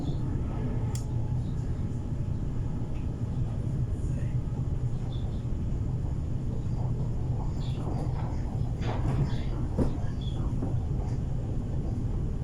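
Steady low rumble inside a moving double-deck Sydney commuter train on a T5 Leppington line service, with continuous rolling noise and faint rattles throughout, no clear talk.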